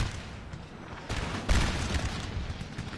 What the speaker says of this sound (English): See if we can engage some of those with cannons.